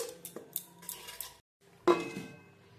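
A spoon stirs a yogurt mixture in a pot with scattered light clinks and scrapes of metal against the vessel, a brief pause, then a louder clatter, quiet and close with no voices.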